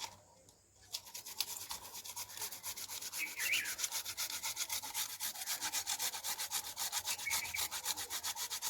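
Potatoes scraped by hand in a home kitchen, a steady rapid rasping that runs continuously at close range after a brief quiet start, with no voices.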